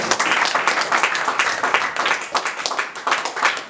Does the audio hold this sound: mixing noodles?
no